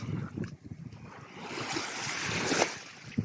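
Rough sea waves at a beach in Rayong, with a soft, distant wash of surf that swells into a broad hiss and then breaks, fairly faint overall.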